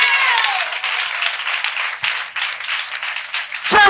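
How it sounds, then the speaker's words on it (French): An audience at a gathering breaks into applause for a woman who celebrated her wedding, a sustained wash of clapping that fades somewhat before a brief burst of noise at the end. "Applaudis."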